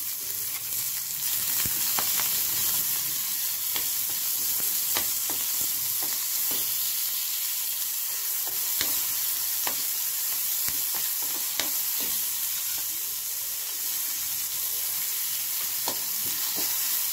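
Curry leaves and green chillies sizzle steadily in hot oil in a pan, with faint scraping from a spoon as they are stirred, continuous and close throughout.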